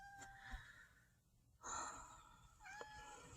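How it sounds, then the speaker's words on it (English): A cat meows a few times nearby in a quiet room where stitching is under way, with short distinct calls separated by pauses. "try to ignore the meowing cat"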